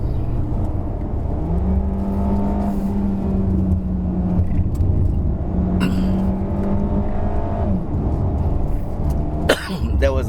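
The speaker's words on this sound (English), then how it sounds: "That was an upshift by itself." Audi Q3 with automatic gearbox climbing a hill: steady engine drone and road noise, the engine tone rising then dropping as the gearbox upshifts on its own, with a sharp knock near the end.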